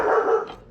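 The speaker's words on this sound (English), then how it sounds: "the German Shepherd, she barks at everybody" A German Shepherd guard dog lets out a single short, loud bark near the microphone.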